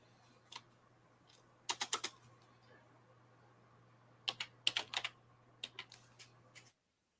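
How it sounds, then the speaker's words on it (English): Computer keyboard typing heard faintly over a quiet line with a low steady hum, coming in short bursts of quick clicks separated by pauses, with no speech. "Muting the keyboardy noises, Croc."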